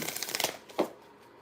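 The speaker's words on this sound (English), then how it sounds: "One more shuffle after this, 3 shuffles." Tarot cards are shuffled quietly up close: a quick run of soft riffling flutters, then a single brief slap as the deck settles, with no voices.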